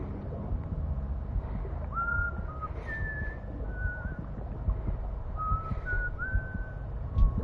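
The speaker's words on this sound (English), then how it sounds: "but instead of him singing it, he whistled it this time." A man whistles a song in the video game Death Stranding, a few thin sustained tones drifting over a steady low rumble of background noise.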